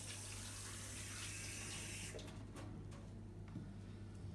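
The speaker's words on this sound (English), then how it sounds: "so we can drop it in, give our hands a little rinse" Hands swish and rinse in a pot of clean water, a close, quiet wash of splashing that stops after a couple of seconds, leaving a few soft drips and small knocks over a low hum.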